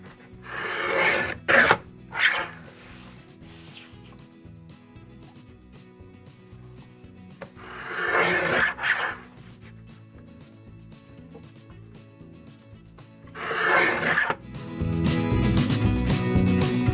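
A picture mat board is trimmed to size in three separate rasping, scraping passes spaced several seconds apart. Quieter handling noises fall between the passes, and a soft rubbing sound continues at the end.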